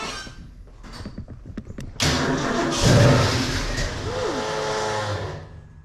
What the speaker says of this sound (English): That was the starter, wasn't it?